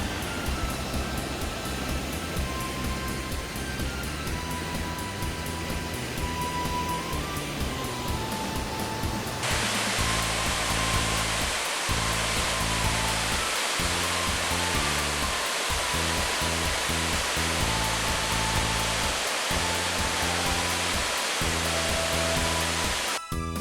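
Roaring, continuous rush of the Yongchu waterfall in Mureung Valley, steady broadband water noise that thickens partway through as it grows closer and louder, with no voices.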